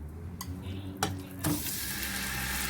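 Meat dropped into hot oil for hareesa: a few light clicks and knocks, then a sudden loud sizzle that holds steady and bright after the meat hits the pan.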